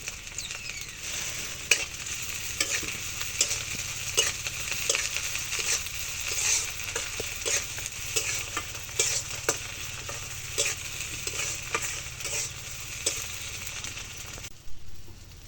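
Dried fish frying in a pan in a home kitchen, a continuous sizzle with repeated stirring scrapes and clicks throughout, fairly close and even.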